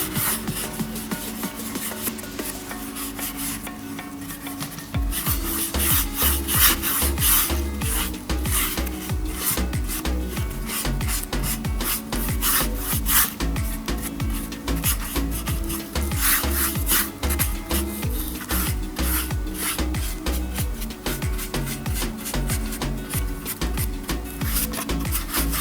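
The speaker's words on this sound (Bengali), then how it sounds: "এখানটায় অ্যাক্রিলিক পেন নিয়ে নিয়েছি ব্ল্যাক। তো এটার ওপর আমি পুরোটা কালার করে নেবো" A black acrylic pen is scrubbed back and forth over a stone while colouring it in, making a continuous close scratchy rubbing that grows louder after a few seconds and keeps a busy, steady rhythm.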